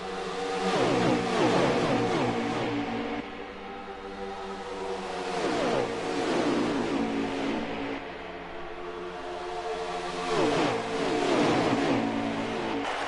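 Race car engines roar on a Kansas racetrack during an outlaw cup series race, several cars passing in loud, overlapping waves that swell and fade as they go by, with no talk.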